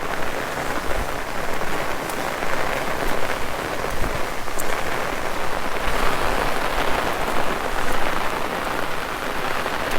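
Heavy monsoon rain pours steadily over maize and fodder crop fields, a dense continuous hiss of drops striking leaves and standing water, close and unbroken with no voices.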